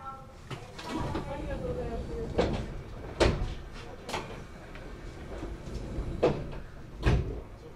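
Several sharp thuds and knocks come at irregular intervals as the doors of a JR 521-series train close before departure, amid background chatter and a Japanese station announcement.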